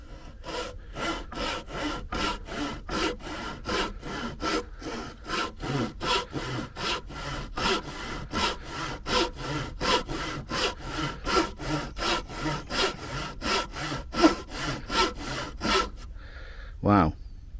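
A Parkside Japanese pull saw cuts through firewood in a long series of quick, even rasping strokes, close and rhythmic, then stops, followed by a brief knock.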